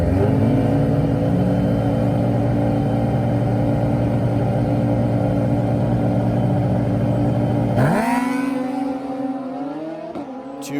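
Drag racing motorcycles, a nitrous-fed Suzuki Hayabusa, roar at full throttle on the strip in a loud, sustained engine howl, then the pitch drops as they pass and fade away.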